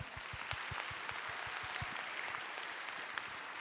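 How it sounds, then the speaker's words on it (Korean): Applause from a church youth congregation, a soft, distant patter of many hands, with a few louder claps near the start that thin into a light, even wash. "혁군에게 감사의 박수 한번 할까요?"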